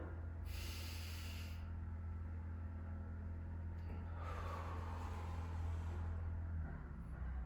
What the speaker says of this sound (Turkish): Evet, nefes alıyorum.